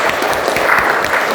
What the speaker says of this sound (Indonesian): itu tadi tepuk tangan untuk Mas Aiman.